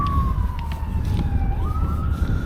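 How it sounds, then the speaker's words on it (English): A single emergency-vehicle siren wails steadily in the distance, its pitch gliding down and back up, over a constant low rumble of traffic. "Sirens going off in the background."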